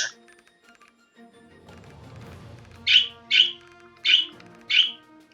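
Four sharp bird chirps or squawks from the Wizard of Legend game ring out in quick, evenly spaced succession after a faint rustle, loud and close against near silence.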